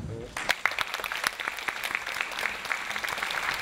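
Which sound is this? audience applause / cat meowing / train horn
audience applause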